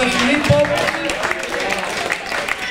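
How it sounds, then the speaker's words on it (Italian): Applause from a crowd at a football club team presentation, a fairly loud, steady wash of many hands clapping, with voices mixed in. "Un applauso a Filippo."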